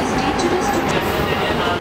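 Rumbling, rattling noise of a moving Mumbai local commuter train carriage, steady and close, with a voice talking briefly over it.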